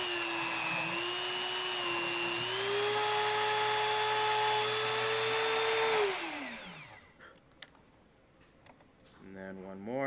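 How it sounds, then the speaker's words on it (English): A mini drill press whirs at a steady high pitch while boring holes for a mousetrap car, then spins down and stops, leaving quiet handling clicks and a brief tonal burst at the end. "this little drill press mini drill press is going to go right onto the hole"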